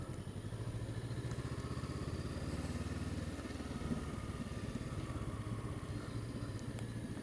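A motorbike on a ride along quiet country village roads, its engine droning steadily and close throughout with no break and no voices.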